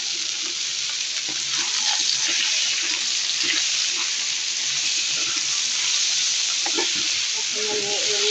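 Malabar spinach greens fry in a pan with a loud, steady sizzle and hiss, broken by occasional stirring clatter.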